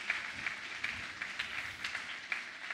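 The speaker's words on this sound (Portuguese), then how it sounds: "Você pode aplaudir o Senhor por essa maravilhosa notícia." A church congregation at a Christmas service applauds, soft massed clapping with a few sharper individual claps, fairly faint and steady in a reverberant hall.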